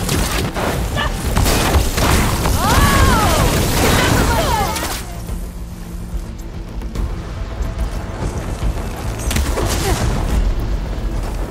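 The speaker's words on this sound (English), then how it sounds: "Now that's an explosion!" An explosion erupts in Horizon Forbidden West, a loud broadband blast with crashing debris and rumbling that dies down into a lower, sustained roar and background clatter.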